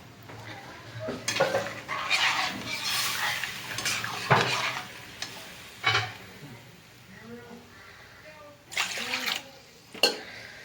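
Water being added to a cooking pot of kadhi with bhindi, with metal pot and spoon clatters, a brief pouring splash, and occasional stirring and scraping knocks spread across the clip while a voice talks.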